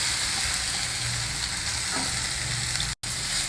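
Washed, ground poha with ghee-fried cashews and raisins sizzles steadily in a pan as it is stirred, a continuous close frying hiss with no talk and a brief dropout near the end.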